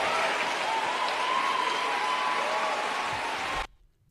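An audience applauds a Barack Obama speech, a dense sustained wash of clapping and crowd noise that cuts off abruptly near the end.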